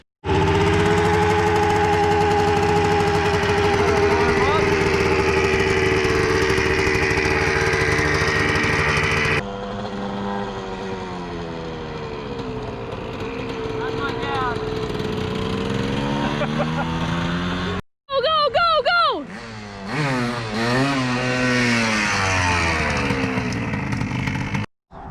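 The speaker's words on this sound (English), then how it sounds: "now we're gonna take the dirt bike out" Dirt bike engine running close by, a steady loud buzzing drone that shifts in pitch, then cuts briefly before rising and falling revs resume.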